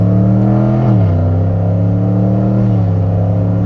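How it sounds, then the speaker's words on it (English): Car accelerating in second gear, changing gears with paddle shifters: a steady, close engine drone steps down in pitch twice as each shift lands, with no one talking. "So he's using the paddles now, and it shifts."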